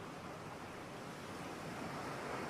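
Ocean waves roll steadily onto a shore of sand and pebbles, a continuous broad wash of surf that swells slightly louder toward the end, with no voices.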